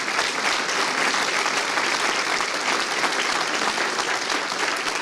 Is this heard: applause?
yes